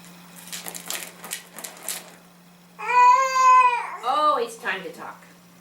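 An infant babbles and coos in bursts, near and fairly loud, after a stretch of faint rustling and soft sounds.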